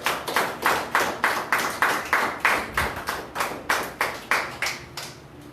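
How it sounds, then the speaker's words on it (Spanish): A church congregation claps together in a steady, regular rhythm, about fourteen crisp beats at an even pace, fairly loud and close, with no talking over it. "Dale un aplauso al Espíritu Santo."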